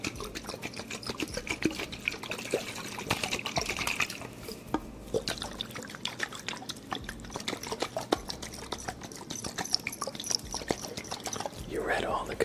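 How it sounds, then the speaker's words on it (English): A jar of water is tipped, swirled and tapped up close for ASMR, giving rapid small sloshes, drips and clinks in an irregular patter, with soft speech over parts. "We'll make some water jar sounds as well."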